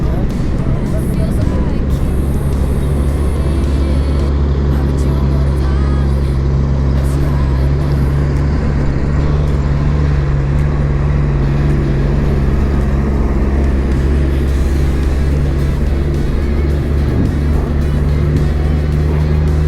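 Steady road traffic rumbles past during an electric bike ride through city streets, with cars and motor vehicles passing close by in a continuous dense roar.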